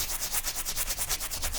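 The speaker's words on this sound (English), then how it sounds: "We're just gonna really try to scrub any of that stuff out, any of the stains out." A brush scrubs stains from the toe box of a Nike shoe upper in rapid, close, rhythmic strokes that continue steadily without any talk.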